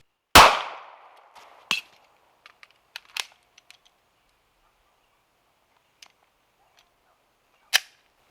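The slide of a Ruger Security 9 pistol is racked and dropped, giving one sharp loud metallic clack followed by a few lighter clicks and a final crisp snap, alone in a quiet room.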